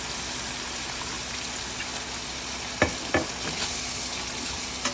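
Ground pork and cabbage frying in a pan, a steady hiss of sizzling broken by two sharp bursts as a little water hits the hot pan, then a softer bubbling settle.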